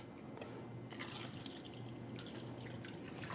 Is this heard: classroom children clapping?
no